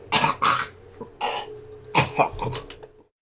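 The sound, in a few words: coughing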